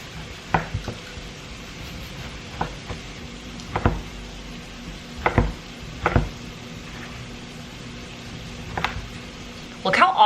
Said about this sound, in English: we're gonna go ahead and cut our bread into cubes